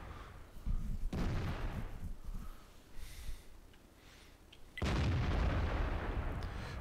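Tank cannon fire in the World of Tanks video game: heavy booming shots with a sustained rumbling burst at the end.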